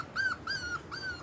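Puppies whimper nearby in three thin, high-pitched whines that rise and fall in quick succession, clear against quiet background noise with no talking.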